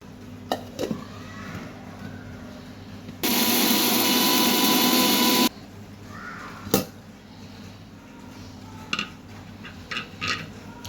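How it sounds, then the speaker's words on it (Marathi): A mixer grinder roars loudly for about two seconds grinding roasted split chickpeas into powder, with scattered kitchen clatter and clinks before and after in a quiet room. "आपण पहिले याला मिक्सरमध्ये फिरवून घेऊया आणि पूड करून घेऊया"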